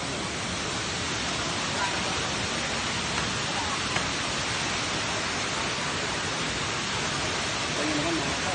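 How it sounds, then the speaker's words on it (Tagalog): Tay Tay Falls pours as a continuous, dense rushing hiss of falling water, steady and close, with no break across the whole stretch. "nandito na tayo sa waterfalls mga kapaps"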